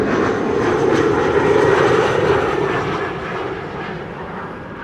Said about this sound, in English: The first A350 of the show.